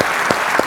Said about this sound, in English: Let's give a great big hand of applause to both of our customers